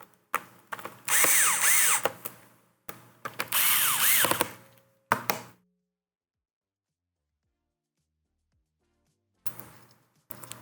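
Power screwdriver tightening screws in an HP Fortis 14 G11 laptop: two long whirring bursts with short taps between, a brief final burst, then silence and a faint later rattle.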